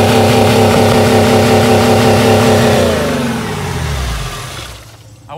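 A car engine running after a jump-start with yogurt drink used as its oil, loud and close, holding a steady rough drone before sagging and dying away near the end.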